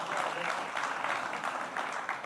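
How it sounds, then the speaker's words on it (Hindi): An audience applauds the poet Ashok Chakradhar on stage at the NDTV Creators Manch event, a fairly soft, even roll of clapping that swells slightly in small waves. "तालियां बजाइए अशोक जी के लिए।"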